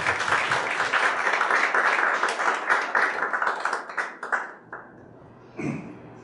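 Audience applause welcoming a speaker onto the stage at a Brazilian technology investment talk, a dense wash of many hands clapping that fades out over the last two seconds, followed by a brief thud.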